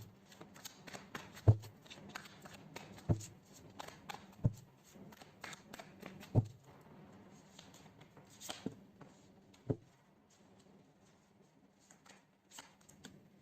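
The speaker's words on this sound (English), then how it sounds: "So let's pull some cards from universe where this connection is headed on and the outcome." Tarot cards are shuffled and pulled, giving quiet papery riffles and flutters broken by several sharp slaps and taps as cards are set down, close and intimate, with no talking.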